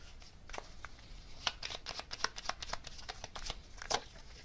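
Tarot cards are shuffled and drawn close up: a quick series of soft riffling slaps and flicks, faint and irregular, with a brief louder snap near the end.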